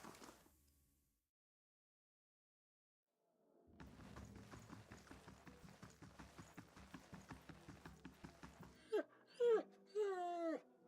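A hound in the game Pillars of Eternity whines a low, wavering note in a few short rising-and-falling cries near the end, following a stretch of steady rhythmic clopping and background game sound after an opening silence.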